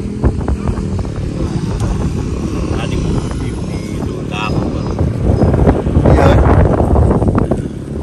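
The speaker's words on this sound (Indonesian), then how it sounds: "Angin kencang ya?" Strong wind roars and buffets the microphone outdoors, a steady rushing that swells louder toward the end, while people talk underneath.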